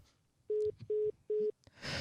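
Three evenly spaced telephone keypad tones beep in quick succession as a number is dialed to call someone back, followed by a burst of hiss at the end.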